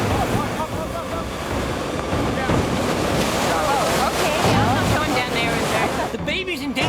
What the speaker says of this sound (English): With the ocean in the background